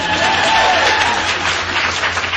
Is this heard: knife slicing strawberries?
no